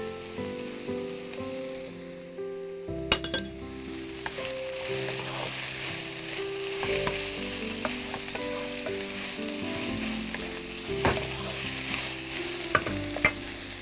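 Chicken fried rice with green chilies is stir-fried in a pan, a steady sizzle and hiss under repeated scraping and clanking of a spatula against metal, close and continuous with no voices.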